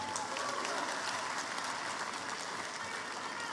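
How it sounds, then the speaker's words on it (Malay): Applause from an audience at the UMNO 2022 general assembly presidential address, a steady dense patter of many hands clapping that fills the hall throughout, with a faint murmur of the crowd beneath. "Kita berikan tepukan kepada Datuk Seri Bong"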